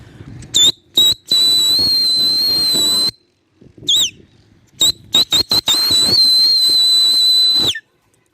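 Whistle blown repeatedly at a kabootar bazi rooftop in Karachi to send pigeons flying: loud, high, sustained blasts with short sharp toots between, some long steady and some wavering, with a pause near the middle.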